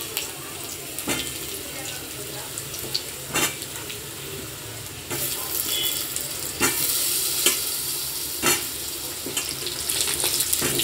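Potatoes dropped into a pan of hot oil, a loud sizzle that rises and holds, punctuated by sharp bursts of stirring and scraping, no talk.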